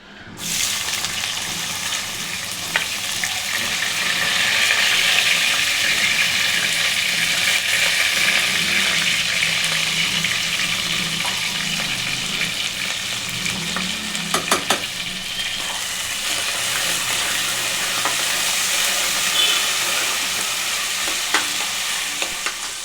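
Two medium onions, four or five green chilies and a little mint fry in hot oil, a loud continuous close sizzle with occasional stirring clinks, no talking.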